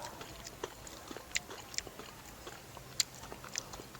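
Close, quiet chewing with sharp intermittent crunches as crispy fried coconut katsu is bitten and munched, no talking.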